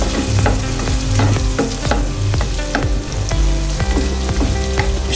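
Minced garlic sizzles loudly in about 15 grams of hot butter in a pan, a continuous close frying crackle broken by regular scraping strokes of stirring.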